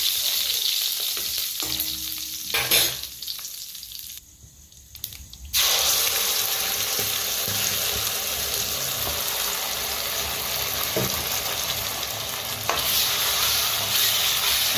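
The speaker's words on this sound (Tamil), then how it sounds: "நல்லா தீயை குறைச்சி வச்சு நல்லா கிளறி விடுங்க." Ground masala paste for a Tamil egg curry frying over low heat in a pan, a steady close sizzle with stirring scrapes, briefly dropping quieter mid-way before the loud frying resumes, no talk.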